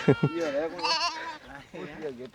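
Goats in a fenced pen in a Rajasthan desert border village let out wavering bleats, close and fairly loud, with a person talking around them.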